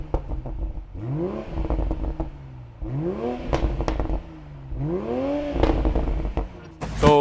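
Stock exhaust of a Toyota Supra GR, revved repeatedly in loud, close bursts. Each rev climbs in pitch and falls back, with crackles and pops between the pulls and a sharp spike at the very end.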